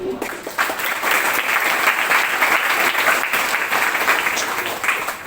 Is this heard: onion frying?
no